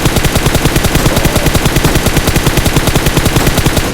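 Rapid, steady automatic gunfire shooting at a car tire in a video game rattles continuously at close range, loud and unbroken for several seconds, with a synthetic game-like sound.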